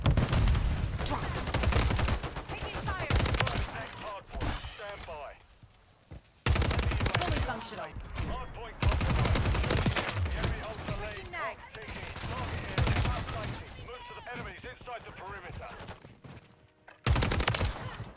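Rapid automatic gunfire and explosions in Call of Duty MW3 multiplayer, with the Superi 46 in use, forming dense bursts of shots with short gaps under frequent game voice callouts and player talk.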